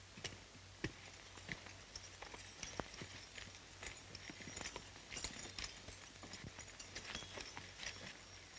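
Horses' hooves clip-clop on the ground in a quiet, uneven patter of scattered beats, faint and somewhat distant behind a low background hiss.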